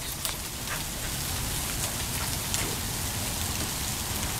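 Rain or icy, pebble-like precipitation coming down fast outdoors, a dense steady patter on surfaces throughout with scattered louder drops and no speech.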